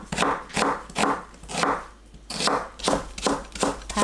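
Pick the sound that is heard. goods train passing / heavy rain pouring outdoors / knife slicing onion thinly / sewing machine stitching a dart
knife slicing onion thinly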